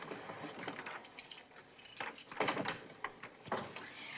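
Keys jangle and rattle close by as someone fumbles at a locked house door, a run of bright metallic clinks and scrapes with no talk over them.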